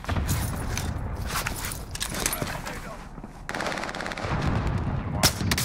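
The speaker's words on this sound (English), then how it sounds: "We're taking fire." Rapid automatic gunfire from a first-person shooter video game, bursts of machine-gun fire and shots rattling continuously at moderate loudness, with players talking over the action.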